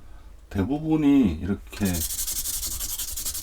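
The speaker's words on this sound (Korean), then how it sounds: "컴파운드를 쓰기 전에 이렇게 사포 같은 걸로 해요" Someone speaks briefly, then sandpaper scrapes in quick, rough rubbing strokes across an aluminium car side mirror, the close gritty sanding continuing on its own after the talking stops.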